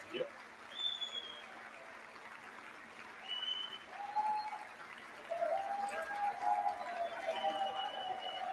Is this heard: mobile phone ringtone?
no